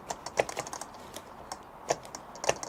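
String trimmer head clicking as the line winds up onto the spool: a quick run of small plastic ticks and clicks, close and fairly faint, irregular at first and then a few sharper snaps, with no talking.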